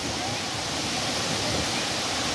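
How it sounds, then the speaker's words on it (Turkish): Heavy rain pours at Aşıklar waterfall in Dikili, a steady, dense roar of falling water that fills the clip close to the microphone without a break. "Yağmur'a Aşıklar Şelalesi'nde yakalandım"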